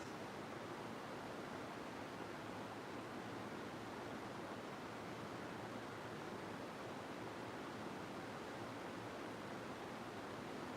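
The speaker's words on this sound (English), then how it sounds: "You hear the river outside" A rain-swollen river in a valley flowing over stones, heard as a steady, dense rushing wash with no breaks, fairly faint and distant.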